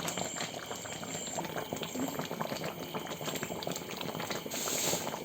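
Chicken curry simmers steadily in a pot, giving a continuous bubbling boil with a soft hiss. The sound stays even and close throughout, with no voices.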